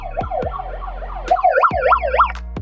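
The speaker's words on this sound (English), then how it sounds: "Every single time we hit over 1K, we're going to be playing that siren." Siren sound effect with a wailing electronic tone sweeping up and down in quick repeated cycles, loud and close, punctuated by sharp percussive hits, no talking.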